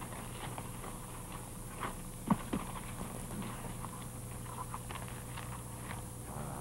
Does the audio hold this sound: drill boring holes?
no